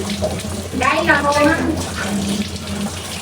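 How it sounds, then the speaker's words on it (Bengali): Water poured from a container into a pan of fish curry cooking on the stove, a short steady splash and trickle with a voice speaking briefly over it. "একটুখানি জল দিয়ে দিই"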